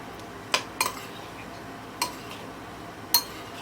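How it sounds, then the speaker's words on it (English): A bowl of blueberries with honey, lemon juice and lemon zest being stirred with a metal utensil, giving a few sharp, separate clinks against the bowl over quiet background, close and fairly soft. "And now you want to give it a stir."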